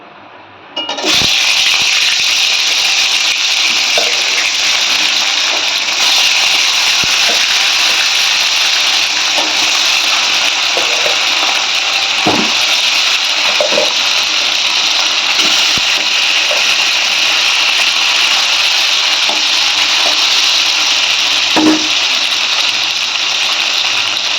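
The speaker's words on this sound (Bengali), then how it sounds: "এবারে তেল গরম হয়ে গেছে, একে একে মাছগুলো দিয়ে ভেজে নেব ভালো করে," Loud, continuous hiss of fish frying in hot mustard oil, with occasional soft clicks and knocks of a pan, no one speaking.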